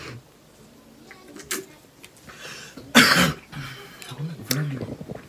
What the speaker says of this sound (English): He's been coughing for 3 weeks.